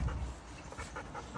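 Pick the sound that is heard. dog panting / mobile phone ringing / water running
dog panting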